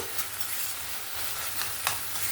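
Bottle gourd and chickpea curry being stirred in a pot, a steady close sizzle with a few soft scraping taps of the spoon, no talking.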